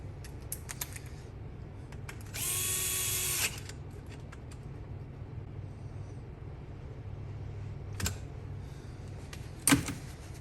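A power tool briefly whirs for about a second while tightening a part on a KX125 two-stroke engine under rebuild, a steady mechanical whine in a quiet workshop with a few light clicks and taps before and after.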